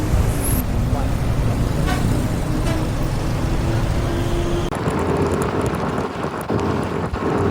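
Lorries, buses, cars and motorbikes cross a narrow bridge at Alahan Panjang, making a steady, loud roadway rumble that holds throughout, with individual vehicles swelling and passing close by.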